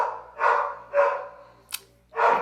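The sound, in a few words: dog barking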